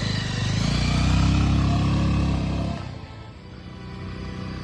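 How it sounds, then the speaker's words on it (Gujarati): A motorcycle engine idles loud and close with a steady low rumble, then its note drops and quiets before picking up again. "અલ્યા તારી બાઈક ચાલુ ને દાદુ."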